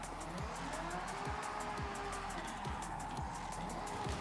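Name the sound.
car drifting with tire squeal, Forza Horizon 6 video game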